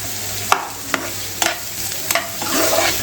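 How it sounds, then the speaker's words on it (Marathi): Onion frying in a pan with curry leaves until reddish: a soft, steady sizzle with a few sharp clacks of a spoon or spatula stirring against the pan, close and without talk. "आपण हा कांदा आहे ना पूर्ण मस्त लालसर भाजून घेऊयात"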